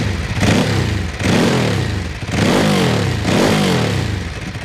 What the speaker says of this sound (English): give the throttle a blip so you can hear the exhaust